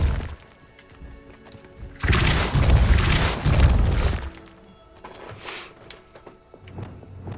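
A Depulso spell cast in Hogwarts Legacy, heard as a burst of loud crashing and smashing impact noise lasting about two seconds over a low background score, then fading back to quiet game sounds.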